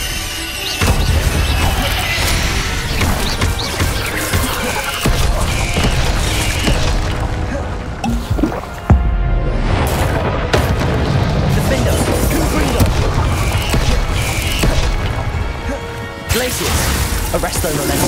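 Confringo fire spell blasts in the Hogwarts Legacy video game, loud booming and crashing impacts amid dense combat noise for the whole stretch, with a brief dip midway.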